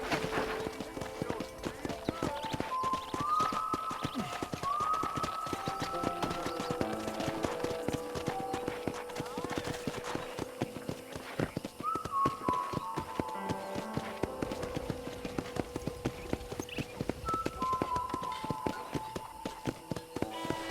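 Horse hooves clip-clopping at a walk in the video game Red Dead Redemption, a steady close rhythmic clatter over about twenty seconds beneath soft background music.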